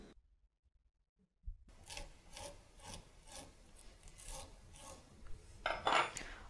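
After a quiet start, a rasp scrapes a wooden shoe last to reshape it in steady rhythmic strokes, close and rough, with a harsher scratch near the end.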